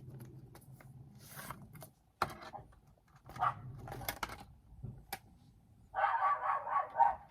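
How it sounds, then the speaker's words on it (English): A dog barks a few times at a distance from outside in the garden, short sharp yelps scattered between quieter indoor household noises and light clatter. "My dog's barking out in the garden"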